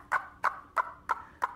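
Friction sound-box noisemaker imitating a chicken at a science demonstration, five evenly spaced squawking clucks about a third of a second apart, close and moderately loud with no talking.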